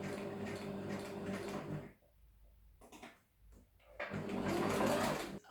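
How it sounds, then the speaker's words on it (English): A sewing machine stitching the shoulder seam of a summer dress, whirring steadily in close bursts with short pauses between runs of stitching. "put this right under your needle so it doesn't move when you start to sew. Start with the double stitch so it doesn't undo."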